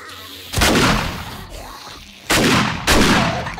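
Gunfire in the zombie survival game 7 Days To Die, two pairs of loud, sharp shots with booming tails, spaced a couple of seconds apart, close and prominent.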